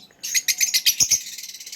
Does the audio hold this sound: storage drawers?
no